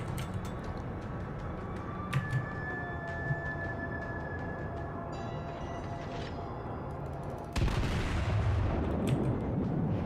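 Naval gunfire from battleships in World of Warships, a Colorado battleship trading fire with a Kongou: a continuous low rumble of distant cannon fire with a couple of sharper shots, then a loud heavy blast near the end.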